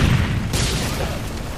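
A grenade blast in Modern Warfare 3 during a private shotgun match, a dense rumbling boom that fills the moment and lingers, fairly loud with no talk over it.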